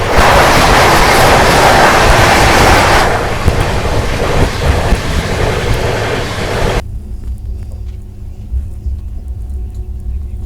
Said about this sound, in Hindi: सामने से आ रही है पुणे अजनी वंदे भारत।